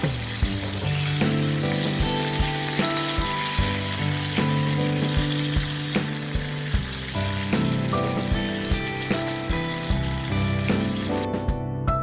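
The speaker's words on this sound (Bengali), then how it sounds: "তারপরে ওই চিকেন পিসেসগুলোতে তেলে ছেড়ে দেবো, দিয়ে ভালো করে ডাবল ফ্রাই করব।" Chicken wings double frying in oil produce a loud, continuous sizzle with dense crackling and occasional pops, close and uninterrupted by talk.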